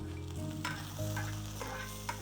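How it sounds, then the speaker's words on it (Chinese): Dried chilies crackle and sizzle in hot oil in a wok with ginger and garlic, a dense steady frying hiss close up, broken by scraping stirs of a spatula, with no talking. "干辣椒也要下锅爆香啊"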